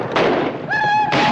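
Gunfire in a Wild West cowboy movie scene near wagons: two loud, sharp bursts separated by a brief tonal cry or whistle, close and forceful.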